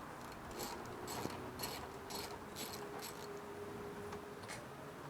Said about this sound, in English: start off with your 12mm and undo this bolt here